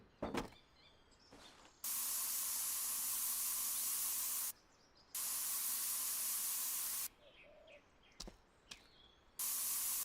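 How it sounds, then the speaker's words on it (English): Spray paint hisses in a video game in three long, steady bursts separated by pauses, with faint clicks and thuds between them. "I have to respray some of these bits."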